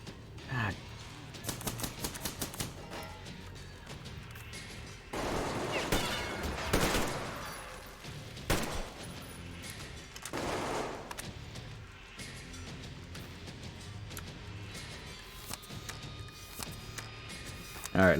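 Video game gunfire: rapid bursts of sharp shots, some quick volleys and a heavier sustained burst in the middle, with brief gaps between them and voices talking underneath.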